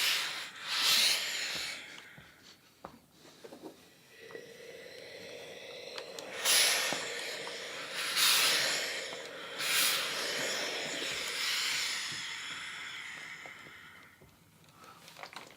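A clothes iron presses seam allowances toward the sleeve on knit fabric, giving several loud bursts of steam hiss between quieter stretches of soft rubbing and gliding.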